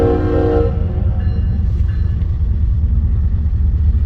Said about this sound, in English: Here comes that eastbound that was holding, waiting for the mega to get by